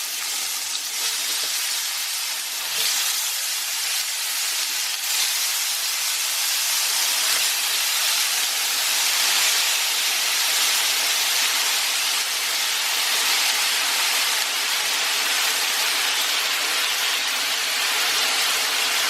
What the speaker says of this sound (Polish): Tutaj sobie podsmażam ten arbuz z jednej, z drugiej strony